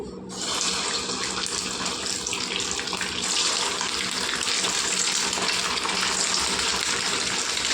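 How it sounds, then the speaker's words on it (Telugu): Bread rolls frying in well-heated oil, a steady broadband sizzle and bubbling that starts after a brief quiet moment and holds loud and even throughout, with no talking. "ఇప్పుడు ఇవన్నీ వేపుకుందాం మనం చూడండి నూనె అయితే బాగా వేడెక్కింది"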